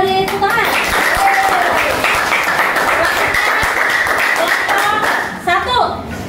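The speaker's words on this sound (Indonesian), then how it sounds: "mari kita beri tepuk tangan." Students in a classroom teaching-practice lesson clap together after a group presentation, a dense burst of hand clapping between spoken voices at the start and end.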